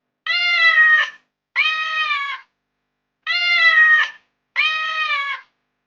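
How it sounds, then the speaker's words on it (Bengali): A wild cat gives four loud, close meows in two evenly spaced pairs, each a drawn-out call, with no other sound. "এটা হলো একটি বন্য বিড়াল। বিড়াল কেমন করে ডাকে?"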